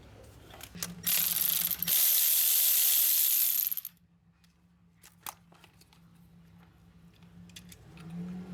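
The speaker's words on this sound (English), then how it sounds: "So we're gonna remove these two bolts so that we can remove the fuel lines." A ratchet removes the fuel line bolts on a 2016 Honda Pilot: a rapid clicking burst of ratcheting up close, then quiet with a few faint metallic ticks and taps.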